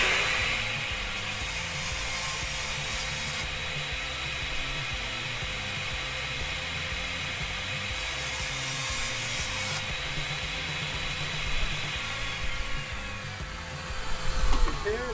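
A saw fitted with a Diablo blade cuts red oak veneer plywood across the grain, producing a steady, loud whine that holds for the whole stretch and grows rougher near the end.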